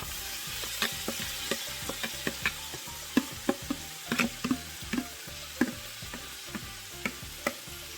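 Crab frying in a Jamaican curry pot for curry crab and shrimp, a steady close sizzle broken by repeated scraping knocks of a spoon stirring through the pieces.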